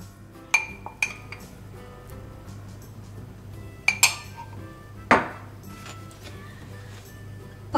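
A metal baklava pan soaked with honey handled and set back into an oven: several distinct metallic clanks and clinks spaced a second or so apart, close, over a low steady kitchen hum.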